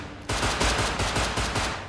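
Rapid automatic gunfire in the survival game Rust, about seven or eight sharp, loud shots in quick rhythmic succession after a brief quiet start, with no talk over them.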